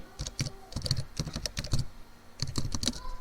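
Rapid, irregular keystrokes on a computer keyboard while typing text, close and clear with short bursts and brief pauses, no voices.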